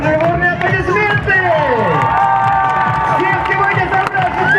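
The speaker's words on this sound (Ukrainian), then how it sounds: "Бурные аплодисменты!" Loud applause and cheering from an audience at a school last-bell flash mob, with dense clapping and voices from the crowd throughout and a few raised voices rising over the noise.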